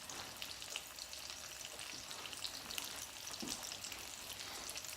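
An omelette with garlic powder frying in a pan, a soft continuous sizzle with light crackles, fairly quiet and steady.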